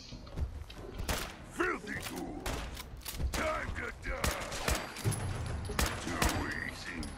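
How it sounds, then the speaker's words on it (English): Gunfire in the video game Fallout 4, with repeated sharp shot bursts and bangs scattered through the clip amid game effects, over which voices speak. "What are you shooting at, Deacon?"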